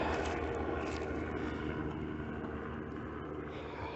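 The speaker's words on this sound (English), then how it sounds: "That was a life flight helicopter." A medical life flight helicopter passes overhead with a steady, loud engine roar and throbbing rotor noise, filling the whole stretch without any voices.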